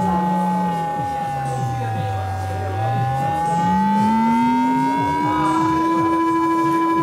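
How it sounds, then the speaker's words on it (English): AJH Synth ring modulator from the Sonic SV series produces a loud, continuous metallic tone with a wailing pitch that dips and rises like a siren, holding a steady high ringing partial above it. "Our classic ring modulator sound"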